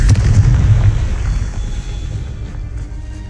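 A Confringo fire spell explodes in the Hogwarts Legacy video game with a heavy rumbling boom that fades out over a few seconds. It is loud and close, and no one speaks.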